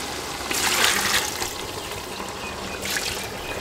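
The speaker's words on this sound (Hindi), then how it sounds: "तो अभी इसमें हम तकरीबन 1 प्याला जो है वो पानी का शामिल करेंगे" A cup of water pours into a village-style mutton biryani pot where the meat is frying in oil, a steady close trickle with a brief second splash near the end.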